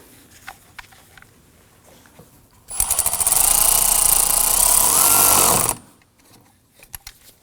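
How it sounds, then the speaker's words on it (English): A power tool whirs steadily for about three seconds while tightening a hose clamp on the intake tube of a 2003-2014 Volvo XC90. Quiet clicks and handling noises surround it. "It's going to tighten down our hose clamp here."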